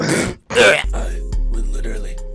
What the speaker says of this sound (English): Why is he clearing his throat in this?